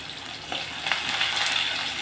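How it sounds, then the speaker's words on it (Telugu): Garlic fries in hot oil, giving a continuous bright sizzle with scattered crackles that grows a little louder partway through, heard alone without any talking. "మనం ఇప్పుడు బాగా వెల్లుల్లిపాయలు వేస్తున్నాము"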